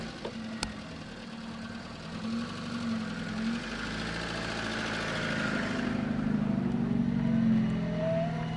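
Car engine idling steadily, then revving up gradually with a rising tone, loud and close, continuous throughout with no talk.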